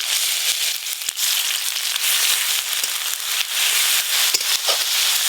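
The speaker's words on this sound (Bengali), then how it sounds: "গ্রেট করে রাখা পেঁয়াজ দেব।" Grated onion sizzles in hot oil spiced with whole garam masala and bay leaf, a loud, steady crackling hiss with scattered sharp pops and no talk.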